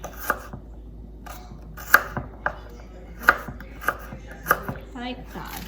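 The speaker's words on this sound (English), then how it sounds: "So just slice the garlic thinly" A knife slices garlic thinly on a cutting board, six or seven sharp, distinct taps spaced unevenly over a quiet kitchen background, close and fairly soft.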